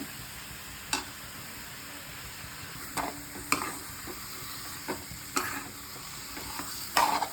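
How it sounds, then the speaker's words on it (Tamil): Washed chicken pieces tossed into spice masala frying in a pot give a soft continuous sizzle, punctuated by several scraping stirs and spoon taps against the pan, with no voices. "இந்த டைம் நம்ம கழுவி வச்சுக்க சிக்கன் போட்டுக்குவோம்."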